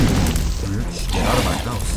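Bomb explosion in The Binding of Isaac, a deep booming burst with rumbling low thuds, heard alongside a player talking.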